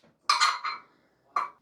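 A cooking pan being handled as coconut oil goes in: a bright metallic clatter and scrape of the pan, a short second knock, then a final clink, close and fairly quiet.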